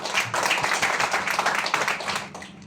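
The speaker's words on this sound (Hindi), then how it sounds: "चलिए एक जोरदार तालियां" A crowd claps loudly in a brief, dense burst of applause that tapers off at the end.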